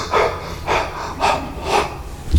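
A preacher imitates the gasping breaths of a dying man: four heavy, evenly spaced gasps, close and loud, with no other voices or sounds around them.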